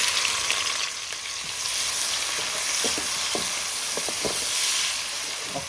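Two onions sizzle in hot oil for a lamb shank curry, a continuous close, loud frying hiss broken by scattered clicks and taps of stirring, with no voices.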